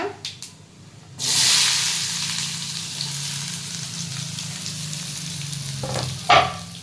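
Mustard seeds and urad dal fry in hot oil before onion goes in for adai batter: a sudden loud sizzle bursts in and settles into a steady hiss, with a few sharp crackles and stirring scrapes.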